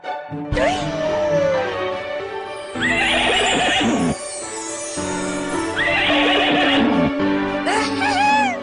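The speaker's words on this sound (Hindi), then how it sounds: "ये है तूफान, फन्ने खान की जादुई दुनिया का करिश्माई घोड़ा" A horse in a fantasy adventure series neighs loudly and repeatedly in long whinnies, with hoofbeats and dramatic background music running throughout.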